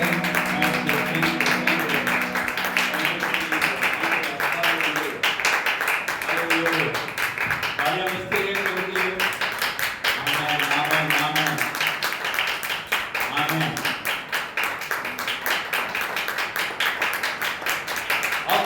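A church congregation claps hands together during worship, a fast, steady patter of many hands that runs throughout, mixed with music and singing voices in a lively, reverberant hall.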